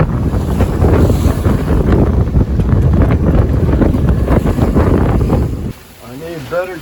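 Strong wind roars and buffets across a microphone aboard a heeling sailboat with waves around it, loud and steady for most of the stretch before dropping away near the end as a voice briefly speaks.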